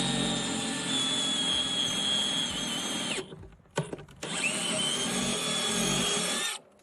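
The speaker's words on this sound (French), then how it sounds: "je vais passer à un forêt d'un demi-pouce et percer complètement" A power drill with a half-inch bit bores through the wood of a whisky barrel, a loud steady whine that cuts out briefly mid-way with a few knocks, then resumes and stops.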